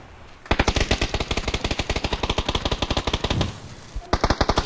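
Rapid automatic gunfire in a shooting video game, a long sustained burst of fast, evenly spaced shots that breaks off briefly and then resumes.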